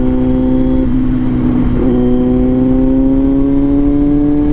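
A big bike motorcycle cruises along a quiet road, its engine holding a steady, loud drone with a smooth rising pitch throughout, close and continuous with no talking.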